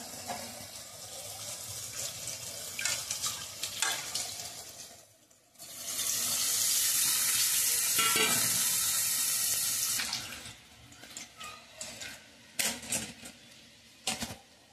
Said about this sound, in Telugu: అదిగోండి చింతపండు పులుసు అయితే పోసాను